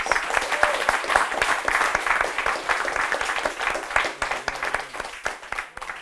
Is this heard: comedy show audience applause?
yes